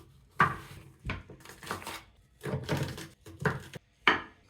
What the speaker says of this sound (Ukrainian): Беру одну цибулину і нарізаю дрібно кубіком.